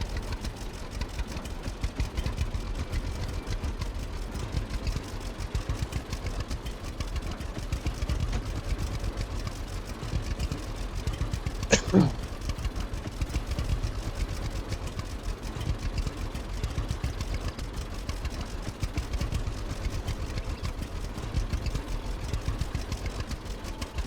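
An old tractor engine in the video game Lumberjack Dynasty runs at a steady low idle, a continuous rumbling drone with one brief sharp click midway.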